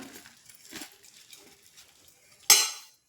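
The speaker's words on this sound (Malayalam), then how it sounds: "നമുക്ക് ഈ പരിപ്പില്ലേ, ചെറുപരിപ്പ്, അത് ഇതിലേക്കൊന്ന് ഇട്ട് കൊടുക്കാം" Split moong dal tipped into hot ghee in a pan: a soft scatter of light grains and faint clinks, then a sharp, bright hiss-and-clatter burst near the end as the lentils hit the hot fat, close and fairly quiet.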